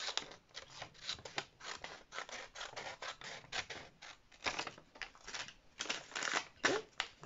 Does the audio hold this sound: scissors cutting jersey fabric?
yes